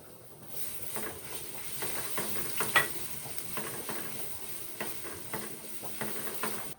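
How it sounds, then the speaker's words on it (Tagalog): Garlic sautéing in cooking oil with a steady sizzle and crackle, punctuated by scraping stirs and light utensil taps, close and continuous with no talk. "Lagyan natin ng mantika. Enough lang para maigisa natin yung bawang."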